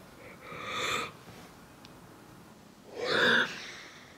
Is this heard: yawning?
yes